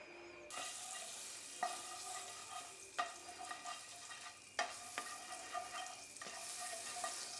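Four eggs fry in a pan lightly greased with butter, giving a steady soft sizzle broken by several sharp spatula scrapes and taps at uneven intervals, close by with no talking.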